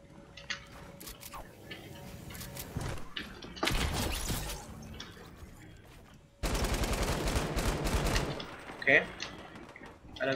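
Light machine gun fire in the Fortnite video game comes in bursts of rapid shots, with a brief volley early on and a louder sustained stretch later, mixed with other game sounds and voices.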